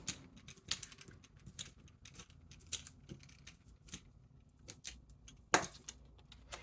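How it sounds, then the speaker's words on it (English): Backing being peeled off adhesive foam dimensionals while making a Christmas card, quiet close crackles and sharp little ticks at irregular intervals, with a louder rip near the end. "And then you can just peel off the backs."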